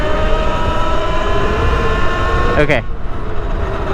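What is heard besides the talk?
Talaria Sting electric dirt bike accelerating at full throttle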